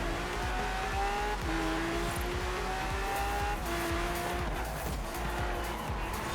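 A Porsche 918 racing in a video game, its engine droning and shifting pitch through gear changes while tires squeal and skid in corners, continuous and fairly quiet from start to finish.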